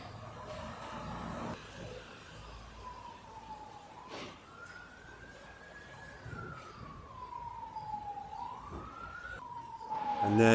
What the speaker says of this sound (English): And there go the constant daily heart attack inducing sirens that the Welsh police are inflicting on the public